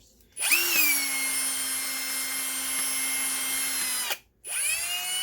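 A power drill spins up with a sharp, bright whine and holds a steady pitch for about four seconds. It winds down briefly, then starts again close by, with no talk over it.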